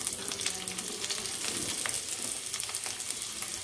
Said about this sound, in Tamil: வெங்காயம் லைட்டாக வதங்கட்டும்